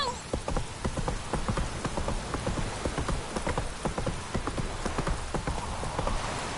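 Hooves of the horse Roach clip-clopping in a steady rapid rhythm over a wash of falling rain in the video game The Witcher 3, continuous and mid-distance.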